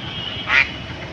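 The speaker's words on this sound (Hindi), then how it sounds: "इतना प्यारा शानदार सीन है ये बत्तख का" A single loud duck quack rings out at Minto Park in Kolkata, a short nasal call standing alone against a quiet, low outdoor background.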